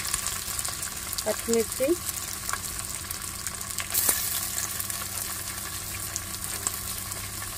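Onions and green chillies frying in a pan for peanut pulao, a dense close sizzle and crackle with stirring scrapes throughout, and a brief spoken word early on.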